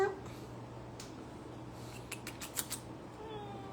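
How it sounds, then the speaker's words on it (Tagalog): An indoor pet cat meows softly a few times amid quiet room tone, with faint clicks and bumps around it. "Si Pia, guys, pusa namin"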